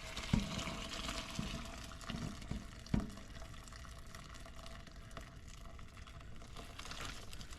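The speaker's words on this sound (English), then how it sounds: "I've got a colander inside of a bowl. Go ahead and strain this all off." Shrimp cooking liquid is poured off through a colander set inside a bowl, giving a steady wash of splashing water with a few sharp knocks near the start, close and alone.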